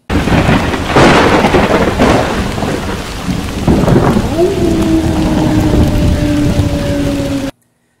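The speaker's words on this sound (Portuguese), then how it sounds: "Nessa noite, com trovejadas, relâmpagos, muita chuva" Thunder cracks and rumbles over heavy, steady rain in a loud thunderstorm sound effect, with a sustained tonal whine joining midway before everything cuts off abruptly.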